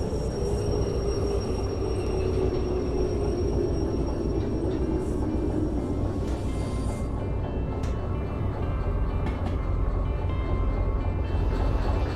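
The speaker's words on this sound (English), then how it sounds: "use some of that train brake." A train in the Derail Valley video game rumbles and grinds steadily as its brakes are applied during night shunting, with a continuous loud low drone and faint metallic squeals throughout, no voices.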